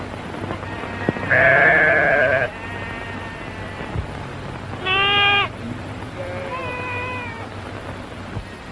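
Sheep bleat while being driven along a trail toward a ranch: a loud wavering call near the start, then two shorter bleats after a pause, over a low steady background hum.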